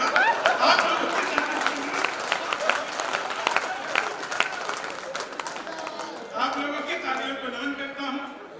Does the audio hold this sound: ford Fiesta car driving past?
no